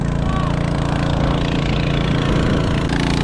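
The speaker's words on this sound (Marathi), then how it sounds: "पंपला प्रेशर खूप आहे पंप जागेवरून हालतो" A steady engine drones loudly and continuously, an engine-driven water pump draining a pond at constant pitch, straining under high pressure, with a low rumbling hum throughout.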